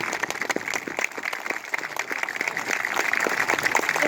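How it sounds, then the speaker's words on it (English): Crowd applause at a community gathering addressing hate crime in Bellevue, many hands clapping in an uneven patter that swells slightly toward the end, with faint voices mixed in. "just give each other a hand of applause"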